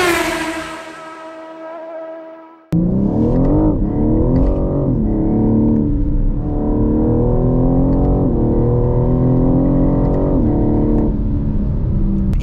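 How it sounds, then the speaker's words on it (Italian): BMW M4 Competition engine, loud and close, rising and falling in several long revving pulls after a sudden start, with the sound reverberating. "Nel video di oggi proviamo la nuova BMW M4 Competition."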